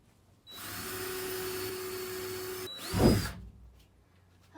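An angle grinder cuts into the metal wall of a van for a bunker window install, with a loud, steady whine for about two seconds, a brief stop and restart, then a rough surge and a quick spin-down.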